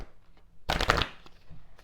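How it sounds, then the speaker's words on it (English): A deck of oracle cards is given a quick riffle shuffle, one brief papery burst of flicking cards up close in a quiet room. "Let's just do a big girl shuffle here and take an oracle card for this."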